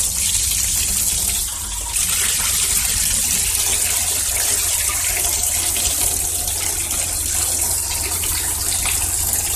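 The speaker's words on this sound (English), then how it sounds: "Sometimes a good thing to do is just wash them out with water." Loud, steady gush of water rinsing out the fuel tank of a 2012 Yard Machines lawn mower, running continuously up close with one brief dip near the start and no talking.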